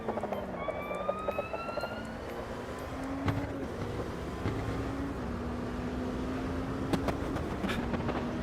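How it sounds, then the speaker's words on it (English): A race car in the Automobilista 2 racing game at the Nürburgring gives a steady high transmission whine over a constant engine drone, the pitch climbing and falling with each gear change, with no voices. "Love the transmission noise in this car."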